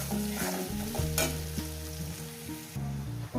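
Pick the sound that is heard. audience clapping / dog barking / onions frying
onions frying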